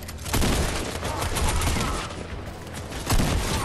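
Rapid bursts of gunfire in the video game Fortnite crackle loudly and densely, with brief pauses between volleys and a faint voice underneath.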